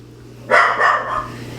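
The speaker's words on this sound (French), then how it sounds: "avant que Molly se mette à japper" A pet dog indoors lets out one loud, close bark with a short trailing second pulse, against a quiet room hum.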